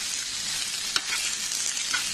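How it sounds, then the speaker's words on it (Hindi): Chopped onion sizzles steadily in hot oil in a pan for an Indian rajma curry, a continuous close hiss with a few brief scrape-like accents from stirring. "इसमें हमने जो कांदा काट के रखा था उसको फ्राई करना है"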